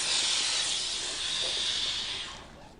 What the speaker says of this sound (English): this is just for steam only, and that just produces the steam out of there for detail cleaning